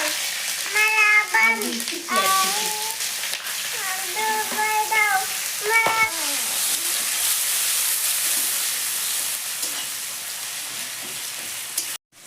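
Onion and spices crackle and sizzle steadily in hot oil, with a voice talking over the first half before the frying continues alone.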